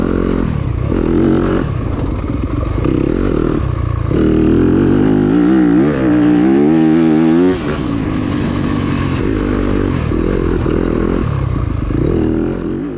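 A dirt bike races through an early-morning sprint enduro test at Blueberry Hill near Collinsville, Alabama, crossing open, slick grassy ground. The engine stays loud and close the whole time, surging and revving with a steady throttle rasp.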